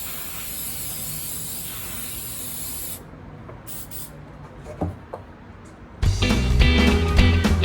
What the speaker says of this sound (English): spray some on there